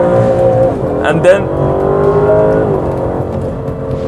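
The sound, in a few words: Aston Martin DBS engine downshifting and revving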